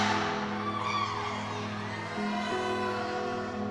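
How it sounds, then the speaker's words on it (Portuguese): A church congregation shouts together on command, a loud sustained crowd roar of many voices that stays dense throughout. "Dá um grito agora."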